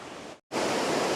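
Khlong Nam Lai waterfall in Kamphaeng Phet roars as a loud, steady wash of rushing water, broken by one very short drop-out.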